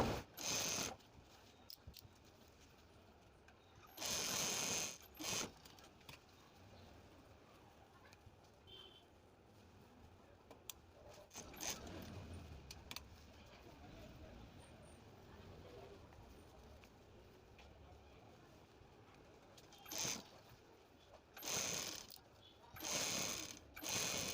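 A sewing machine stitches piping fabric onto a sleeve in several short, loud mechanical runs separated by quieter stretches of handling and background noise.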